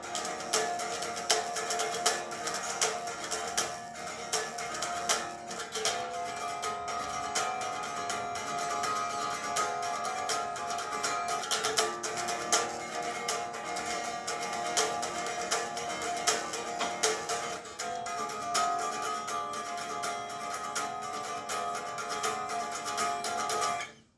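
Guitar strums a relaxed chord riff in a dense, steady wash of distorted or layered chords, continuous and evenly loud throughout.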